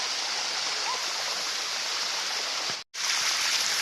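Bua Tong waterfall in Thailand pours steadily as a dense, continuous rush of water, loud and close, with a brief dropout near the end.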